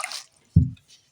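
A single short, soft splash of water poured or dripping into a small cup before taking homeopathic medicine, brief and close, with faint rustling just before.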